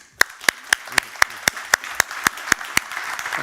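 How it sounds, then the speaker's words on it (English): At a funds and mining investor conference, hands clap in a crisp, evenly spaced rhythm, about four claps a second, close and distinct above a faint background murmur. "But I think we will thank Eric with a big applause."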